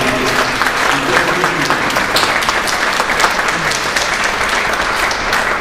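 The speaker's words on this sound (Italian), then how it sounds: "io veramente sono qui soprattutto per invitarvi a fare un grandissimo applauso a Gabriele Castiglione" Audience applause at a concert by a music high school choir, a dense, loud, sustained wash of clapping with faint voices mixed beneath.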